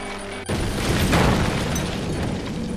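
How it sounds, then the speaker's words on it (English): A sudden, loud helicopter crash explosion on a mountainside bursts in after a brief quiet, followed by a sustained roaring rumble of a fireball with crackling debris. "Then the explosion."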